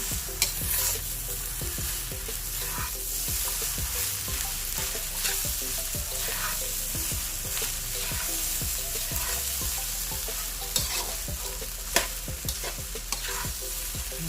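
Fried rice being stirred in a hot pan, a steady sizzle under repeated scraping strokes of a utensil at an even, brisk rhythm, close and clear with no talking.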